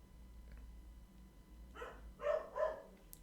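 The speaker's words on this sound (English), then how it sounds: "there goes the dog" A single dog barks a few times in a quiet indoor room. The barks come from a short distance away, as two or three close bursts over a low steady hum.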